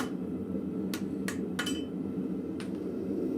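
A hammer strikes a hot cut chisel through scrap metal at a blacksmith's forge: four sharp metallic clinks, spaced irregularly, ring over a steady roaring background.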